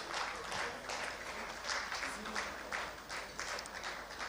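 Steady, dense audience applause fills a hall at the BOICT Awards 2014 ceremony as an honoree walks up to collect his award, continuous and fairly distant with a faint murmur of voices beneath.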